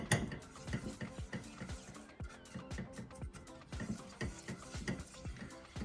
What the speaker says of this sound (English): we're going to keep, you know, stirring the mixture